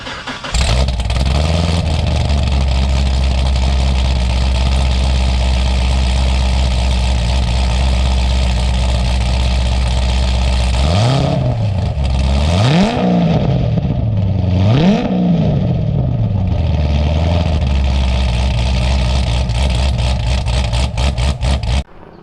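A procharged Chevrolet C6 Corvette with a cam idles loudly and close with a lumpy, steady rumble, then revs three times in quick rising-and-falling sweeps before settling back to idle.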